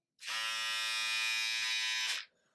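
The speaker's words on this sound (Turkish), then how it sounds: "Acaba şarj olurken çalışıyor mu? Evet led ışığı kırmızı yandı. Şarj olurken kırmızı yanıyor. Dolunca yeşile dönüyor. Çalıştırıyorum." A Kemei KM-5031 electric hair clipper runs while plugged in and charging, giving a steady, close, high-pitched buzz for about two seconds that stops abruptly, with nobody talking.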